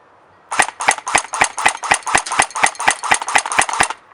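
An airsoft PPSh-41 fires a rapid, even burst of about fourteen sharp snapping shots at a cinder block, close and crisp, starting abruptly after a quiet moment.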